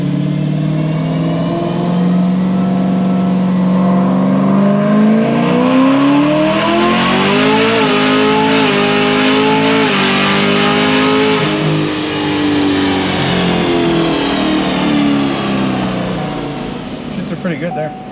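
Chevrolet Camaro ZL1 with a supercharged LT4 V8 and no cam upgrade accelerating hard through third to sixth gear, loud engine roar rising steadily in pitch with brief dips at each upshift, close and continuous.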